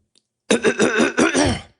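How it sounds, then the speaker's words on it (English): A man clears his throat once, close to the microphone: a short rough rasp broken into several rasping pulses, following a moment of silence. "I just had to clear my throat."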